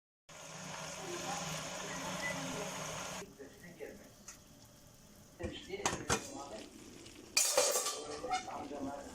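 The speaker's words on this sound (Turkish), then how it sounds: "önce küçük bir kapak sonra ikinci kapağımızı kapatıyorum ve ocağımıza alıyorum" Metal pot lids clank shut one after another and a cooking pot is set onto a kitchen stove, giving close, sharp clatters and scrapes that follow a steady sizzling background.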